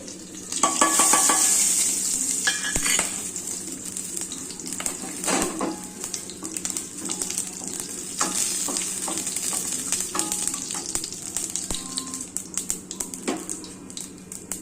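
Spices tempering in hot oil for a beach-style peas chaat, a steady close sizzle with stirring scrapes and occasional clinks of the pan, running continuously throughout without talk.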